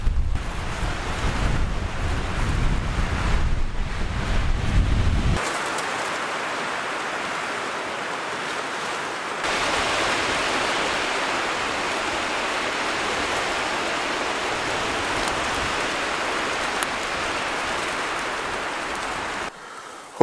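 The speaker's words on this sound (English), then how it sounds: "Just the constant flapping of this tent in the wind." Strong wind batters a tent during a spring solo canoe trip in Algonquin, with steady broadband roaring gusts and continuous flapping fabric that swell louder midway and hold for about twenty seconds, no talking.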